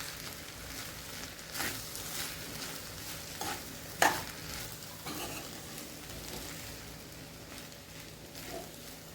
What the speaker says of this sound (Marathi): आता हे आपण मिक्स करून घेऊया।